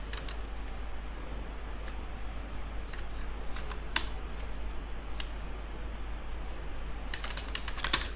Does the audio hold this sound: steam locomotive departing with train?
no